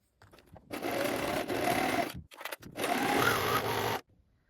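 A sewing machine sews a jacket seam in two close bursts of fast, even whirring, the first about one and a half seconds, a brief pause, then a second run, ending in silence.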